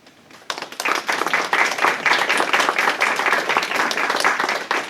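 Audience applause at a McNair scholars celebration at UIUC, starting abruptly and holding as full, steady clapping from a large crowd throughout.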